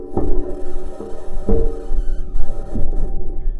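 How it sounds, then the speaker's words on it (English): Perseverance rover's metal wheels rolling over Martian terrain: a continuous droning, throbbing hum with steady tonal whine and periodic knocking clanks roughly every half second to second, close and fairly loud. "This is the sound of the rover driving on Mars."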